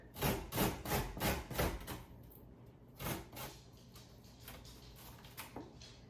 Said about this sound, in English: I'm just going to grate that in the box grater